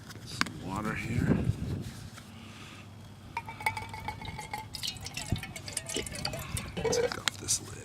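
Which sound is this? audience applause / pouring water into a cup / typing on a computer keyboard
pouring water into a cup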